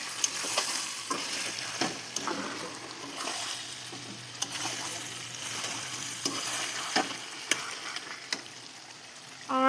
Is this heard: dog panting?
no